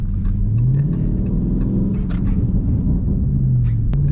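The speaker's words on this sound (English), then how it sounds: "Look, we're gonna make a turn, hit that downshift" Dodge Charger Scat Pack engine rumbling through a paddle-shift downshift while turning, a steady low drone with brief pitch rises, heard close from inside the car with no talk.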